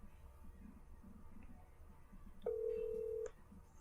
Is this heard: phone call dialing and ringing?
yes